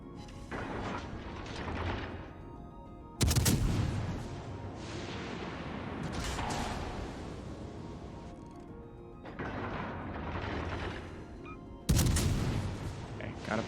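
Heavy naval gun salvos from warships in World of Warships boom in two separate blasts with long, rumbling tails, over a continuous roar of battle noise and scattered explosions.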